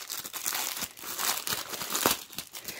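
Crinkling plastic packaging as a cross-stitch kit is unboxed, with close, continuous crackling and rustling and no voices.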